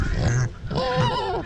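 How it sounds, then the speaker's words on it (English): Pigs being fed in the morning give a couple of short, close grunts and squeals, with nothing else in between. "Morning, little pigs."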